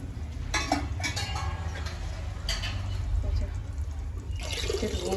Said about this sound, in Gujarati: અને આમાં પાણી નાખી દેવાનું